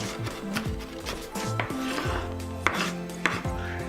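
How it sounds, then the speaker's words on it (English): A knife finely chopping about a quarter cup of onions on a board, sharp irregular taps in quick bursts, close and clear, with faint kitchen clatter and no talking. "there's maybe a 1/4 cup of onions here. I'm chopping it pretty fine."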